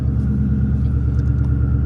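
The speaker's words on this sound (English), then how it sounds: "this is regular idle. You can tell it's not chopping" A twin-turbo Ford GT350 V8 idles smoothly at close range, a deep, steady rumble with no choppy lope, heard alone.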